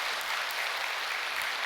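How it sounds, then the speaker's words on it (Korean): An audience at a peace blessing ceremony breaks into steady applause, a dense wash of many hands that holds at an even level throughout a short stretch. "여러분, 믿으시는 분은 크게 박수 한번 올려주시면 고맙겠습니다."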